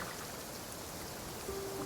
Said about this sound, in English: it just started raining randomly